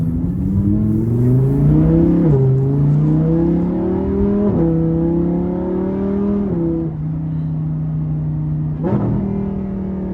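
A first-generation Audi R8 Competition engine revs up through several rising pulls, each climb in pitch cut by a quick automatic shift, loud and close with no talking.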